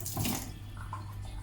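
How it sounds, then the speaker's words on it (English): Tap water runs steadily into a sink as hands are washed, a continuous close splashing hiss with a slight surge at the start and no talking. "just wash my hands."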